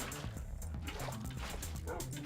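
Dogs in Minecraft, several short yips and whimpering barks in quick succession over a soft background wash, fairly faint and close, with no talk.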